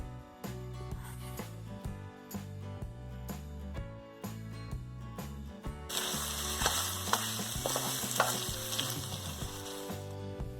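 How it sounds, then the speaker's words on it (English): Meat sizzles and fries in sauce while being stirred in a pan for plantain porridge, a soft crackling sizzle that grows louder partway through, over background music. "Just stirring this properly, mixing it up so that the meat will be completely coated with the sauce."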